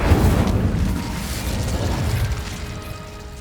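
A fiery burst from the Incendio fire spell in the video game Hogwarts Legacy, a loud, deep whooshing boom that rolls off and fades over a few seconds, with no voices.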